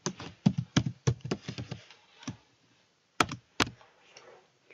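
Someone types a password on a computer keyboard, a quick run of close, crisp key taps, a brief pause, then a few more isolated clicks.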